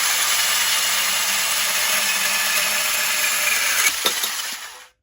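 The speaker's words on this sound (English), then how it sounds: "I've got the cordless Parkside bandsaw here." Cordless Parkside bandsaw cutting through a metal bar, a loud continuous high-pitched grinding whine that holds steady before the blade stops and the sound drops away at the end.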